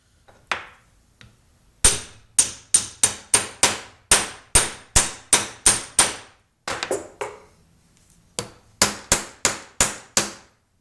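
Sharp, ringing metallic strikes from hammers hitting metal, about twenty blows in quick rhythmic bursts with short pauses between, loud and close, as a Delrin-faced masher is tested at a summer bash event.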